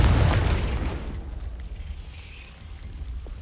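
Confringo fire spell explosion in the video game Hogwarts Legacy: a loud, close blast that rumbles low and then decays into a lingering noisy tail over a few seconds.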